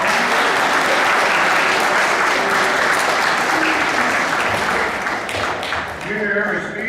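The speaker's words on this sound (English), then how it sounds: "Let's give those athletes a round of applause." Steady, dense applause from a school assembly crowd honoring cross-country athletes, loud and continuous, with some voices mixed in toward the end.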